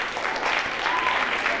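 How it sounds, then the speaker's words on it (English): Audience applause at a 1988 ninth grade school talent show, a steady wash of clapping from a crowd filling the short stretch, moderately loud. "please give a big round of applause"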